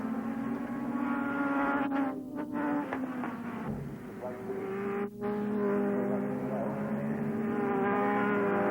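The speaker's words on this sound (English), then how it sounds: "watch the riders commit themselves totally blind over the top of it in second gear, going up to third as they reach the crest of the bridge" Superbike motorcycles racing in 1983 go blind over a bridge crest, shifting from second to third gear, a loud sustained high-revving engine whine with pitch drops at the changes, and a commentator talks over it.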